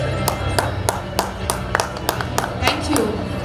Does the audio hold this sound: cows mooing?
no